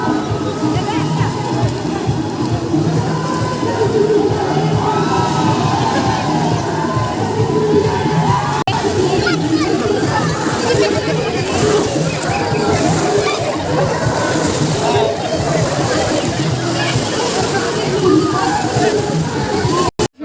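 Water splashing and sloshing steadily at a busy water park, with crowd hubbub and voices of people talking throughout, continuous and fairly loud.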